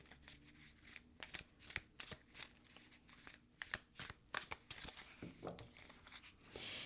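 Tarot cards being shuffled by hand, a quiet, close series of soft riffling bursts and flicks in an irregular rhythm, with no talking.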